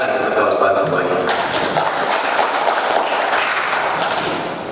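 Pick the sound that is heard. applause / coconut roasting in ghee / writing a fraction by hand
applause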